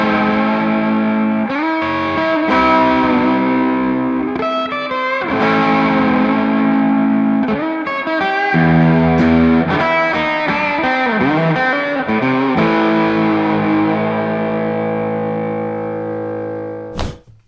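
A Les Paul electric guitar fitted with a Guyker Maestro Vibrola tremolo plays loud distorted chords and bends, with vibrato wobbles and a final ringing chord that fades and cuts off.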